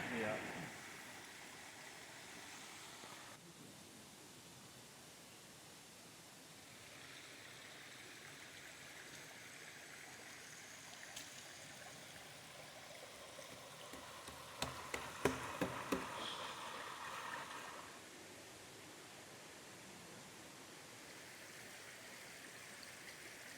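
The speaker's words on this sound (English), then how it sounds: "we made it to the creek" A forest creek on a rainy hiking trail at Ricketts Glen flows in a steady, soft, moderately distant rush of water, with a few faint ticks and rustles nearby and some low talk.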